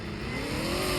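A car rolls in to park, its engine giving a steady, close rumble that holds level for about a second with no talking.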